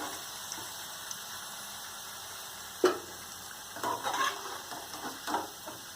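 Onions fry in a kadhai until light brown, giving a steady, close sizzling hiss. A sharp clank and several scraping stirs punctuate the hiss in its second half.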